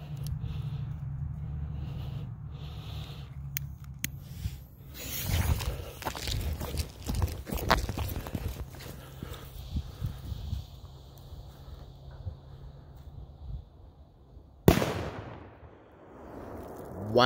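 Extraterrestrial firecracker set off in a hole in the ground: a burst of sharp cracks and crackling outdoors with rustling, then one loud bang near the end, no talk.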